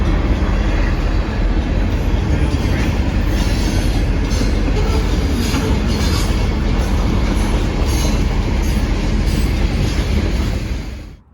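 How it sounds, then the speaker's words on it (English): A train rolls past close by, a loud, continuous rumble of railcars with rhythmic clacking wheels and a high squeal running through it, fading out at the very end. "There's the train."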